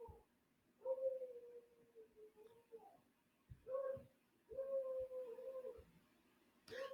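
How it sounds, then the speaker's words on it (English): A pet dog barks and yelps in another room, several separate bursts over a few seconds, faint and distant against a quiet indoor background. "you might be hearing my dog Henry in the background barking"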